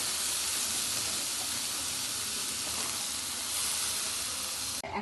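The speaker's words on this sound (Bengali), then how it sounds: "আমি এখন সবজি দিয়ে দিচ্ছি" Mixed vegetables tipped into a hot pan for a pure vegetarian Bengali dish give off a steady, close, loud sizzle and hiss that runs unbroken throughout, with no talking.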